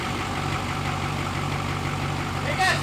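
A 1300 HP Duramax diesel truck idles steadily with a low, even rumble, heard close and at moderate level, with a brief sharp noise near the end.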